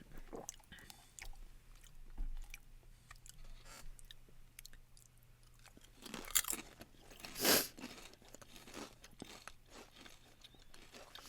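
Crisp American potato chips crunched during a snack taste test, a few quiet scattered bites with one louder crunch near the middle, soft chewing between them and no talking.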